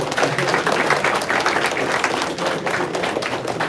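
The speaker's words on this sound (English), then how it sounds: "Let's give a round of applause to Doc." An audience at a student hackathon awards ceremony applauds the third-place team, a dense, even wash of clapping throughout.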